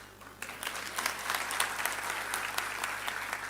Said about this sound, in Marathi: ह्या ज्या तुम्ही टाळ्या वाजवताय